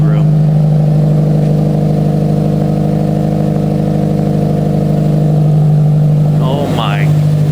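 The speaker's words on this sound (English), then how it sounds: "Now it actually sounds like a Subaru." Subaru WRX engine, a 2009 car converted from EJ255 to a JDM EJ205, runs at a steady loud idle with a throbbing exhaust note, a faint rev rising near the end as voices speak over it.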